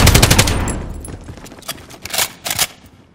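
Gunfire rings out in Call of Duty Modern Warfare, a loud opening burst that decays, followed by several sharp separate shots, close and punchy.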